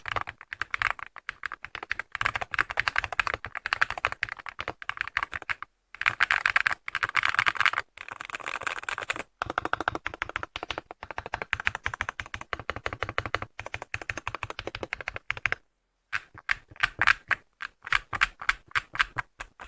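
Rapid, steady clacking of a mechanical keyboard being typed on up close, bursts of keystrokes with brief pauses, no talking.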